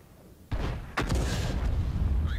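A tank gun fires in World of Tanks, the SU-14-2 artillery piece, with a sudden heavy boom followed by a second blast and a sustained rumbling roar, close and loud.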